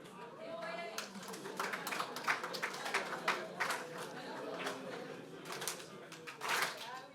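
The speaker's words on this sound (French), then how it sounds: "on va faire un clapping parce qu'il mérite des applaudissements bien plus forts que ce que vous avez fait" Audience at a closing event standing and clapping, a faint, steady patter of many hands with sharper individual claps scattered through it.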